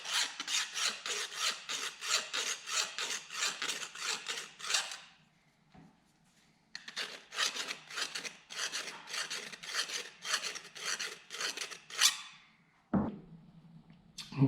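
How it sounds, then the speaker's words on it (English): A chainsaw file rasps back and forth inside the end of a length of copper tubing, fast steady strokes in two long bursts separated by a brief pause, close and prominent. "So for that, we're gonna need the chainsaw file."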